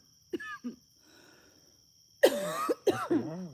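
Loud, harsh coughing from a person indoors: two short coughs, a pause, then a heavy fit of several rough coughs close to the listener, over a faint steady hum.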